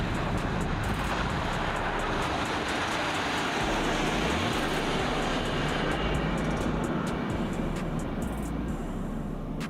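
A Land Rover Discovery accelerates up a steep sand climb with its stability system disabled, the engine roaring loud and steady throughout with a rising whine and no talking.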